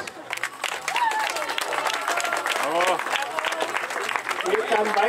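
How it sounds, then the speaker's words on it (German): Crowd applauds the winners at a children's ski race award ceremony, sustained clapping from many hands outdoors, with someone talking over a loudspeaker through it. "So, für diese Herren noch einen kräftigen Applaus."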